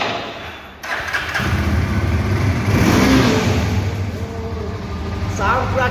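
A Yezdi Adventure motorcycle engine starts and then revs, a loud, close, heavy drone rising and falling across several seconds, with people talking over it.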